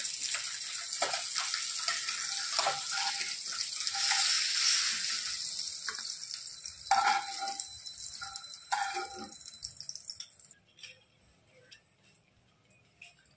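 Foli fish frying in hot oil in a kadai, a loud bright crackling sizzle with spatters and scrapes that fades to quieter pops and clinks toward the end.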